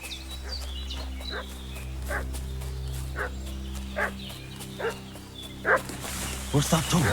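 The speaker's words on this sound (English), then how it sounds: "What's that dog making such a fuss about?" A dog barks in the video game Kingdom Come Deliverance II, a series of sharp, separate barks at moderate distance, growing more frequent toward the end over a low steady ambient hum, with a voice talking.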